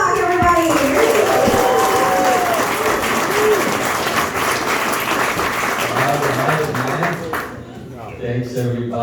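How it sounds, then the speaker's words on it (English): A comedy club audience gives loud, continuous applause and cheering for a stand-up comedian, with a voice talking over the clapping and the applause thinning out near the end. "please make some noise for your next comedian"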